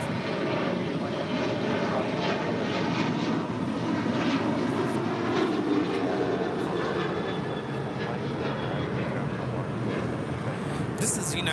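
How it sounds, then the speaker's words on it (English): United Airlines Boeing 737-900ER departing LAX bound for Houston Intercontinental, its engine roar steady and fairly distant with faint fluctuating whine, a few brief clicks and crackles near the end. "This is United Airlines 1366 departing to Houston Intercontinental on a 737-900ER"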